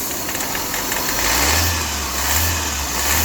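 Diesel car engine revving under a held throttle during an EGR, intake valve and turbo clean-up, a steady loud mid-pitched drone that builds slightly midway and holds, close by with no talk.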